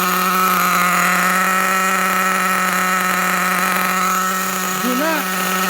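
A Losi 8ight nitro RC car engine revving with its wheels off the ground and spinning, a loud, sustained high buzzing whine held close with a brief pitch wobble near the end.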